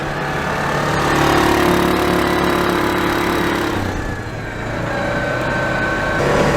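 A Yamaha Wolverine R-Spec side-by-side ATV fitted with portal gear reduction and 33-inch tires churns through mud, its engine droning steadily and loud with a slight dip in pitch midway, no talk.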